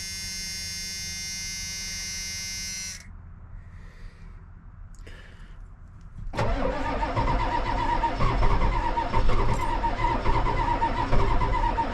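A 1990 Ford F-350 bricknose 4x4 with a dump bed is cold started on a cool evening. A steady electrical hum drops away, the starter cranks briefly, and the engine catches into a loud, rough, continuous idle close by.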